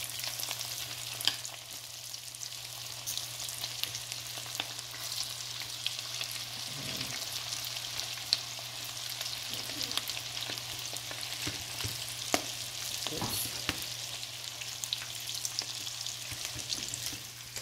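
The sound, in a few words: frying food in oil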